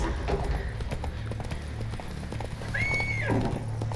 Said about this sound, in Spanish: Y huyen los caballos.